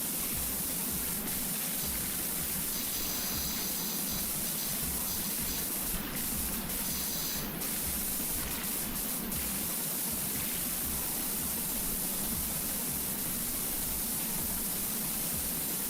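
Pressure washer spraying in the PowerWash Simulator video game, a steady broad hiss running unbroken through the whole stretch with a few brief bright clicks, no voices.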